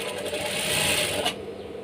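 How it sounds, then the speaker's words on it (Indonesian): A sewing machine runs steadily, stitching fabric that comes out puckered, a close continuous mechanical whir for over a second before cutting off abruptly, with no talking. "kita coba dulu menjahit hasil jahitan berkerut"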